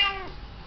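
A cat gives one short, close meow with a falling pitch that trails off within a fraction of a second into quiet room noise.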